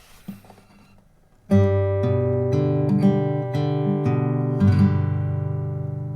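Beginner fingerstyle acoustic guitar plays the bar 16 to 18 ending passage of Amazing Grace: a soft pickup, then about a half-dozen clear plucked notes and chords ringing out in a slow, steady rhythm, played close and alone.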